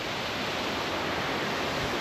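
Steady broadband rush of a waterfall in a green camping area, continuous and even with no voices over it.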